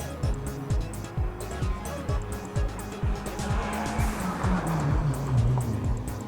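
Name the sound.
car engine running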